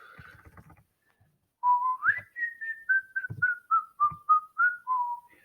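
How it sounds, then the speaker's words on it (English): A person whistles the La Campanella melody alone, a clear, close run of about a dozen bright sliding and repeated notes that follow a short stretch of faint background noise and silence. "I'm already starting to whistle it. It's such a good melody."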